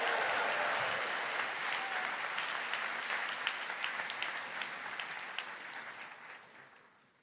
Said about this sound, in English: give a round of applause and welcome Rotaract to this